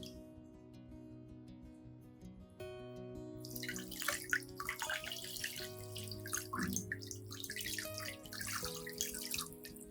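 Tap water runs and splashes while an orchid is rinsed under it, starting after a quieter stretch of soft background music and continuing as a steady close trickle.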